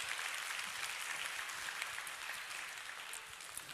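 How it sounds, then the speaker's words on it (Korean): A church congregation at a newcomers' invitation service claps together, a soft, fairly distant spread of many hands that tapers slightly toward the end. "박수를 쳐주시면 감사합니다."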